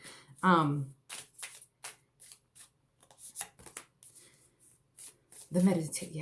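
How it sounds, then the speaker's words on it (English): Cards being shuffled in quick riffling bursts and taps, close by, interleaved with a person talking. "I'm going to keep shuffling"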